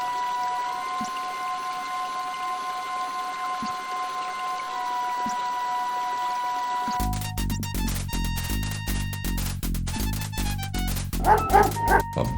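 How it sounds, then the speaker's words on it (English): In the 1990 Sierra adventure game King's Quest V, a dog digs at a large anthill with a steady run of loud, rhythmic synthesized barks and yips. They follow a stretch of quiet tonal game music with a few soft thumps. "A bully of a dog terrorizes the poor ants as he playfully digs at their large anthill."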